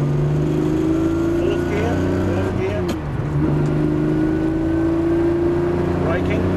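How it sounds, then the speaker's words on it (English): A Lamborghini engine drones loud and close on a race track, holding a steady tone that dips briefly mid-way as the gear shifts, then climbs back. "Braking into third gear."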